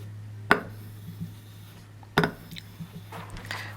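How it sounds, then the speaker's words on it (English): A knife edge is drawn along a strop in a few distinct strokes, each a short, sharp swipe up close with soft rubbing afterward, separated by a steady low hum in a quiet room. "I'm going to strop it 3 times, and I'm going to strop it 3 times on the back."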